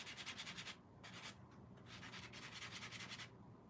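Soft, steady scratchy rubbing of sandpaper smoothing the surface of a paper clay doll, close and quiet, with brief pauses in the strokes.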